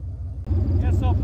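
A Dodge truck's engine rumbles low and steady while mudding, swelling louder midway with a voice speaking over it.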